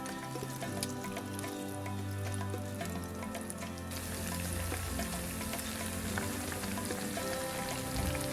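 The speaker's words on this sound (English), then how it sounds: "Heat oil in a pan and fry until chicken pakoras are golden brown and crispy" Steady, dense sizzling and crackling of chicken pakoras frying in hot oil in a pan, continuous throughout, with faint clinks now and then.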